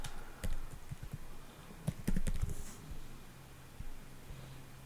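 A password is typed on a computer keyboard in short bursts of sharp, close key clicks, with pauses between the clusters and a faint steady hum underneath.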